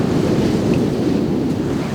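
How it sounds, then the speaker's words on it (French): A racing sailboat pounds through a hard, violent rough sea in strong wind, with a continuous loud roar of surf and wind buffeting across the whole stretch and no voices. "Rapidement la mer se creuse. Dure, violente. Le bateau tape dans chaque vague."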